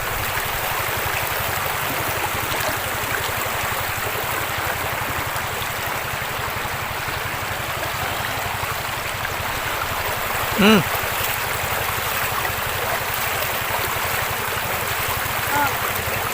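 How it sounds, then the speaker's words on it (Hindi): River water flowing in a Himalayan valley near Lansdowne, a steady loud rushing wash that stays constant throughout, with a brief voice-like chirp near the middle. "अब ये देखो पानी, नदी का पानी।"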